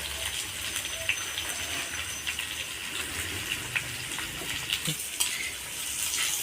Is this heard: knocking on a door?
no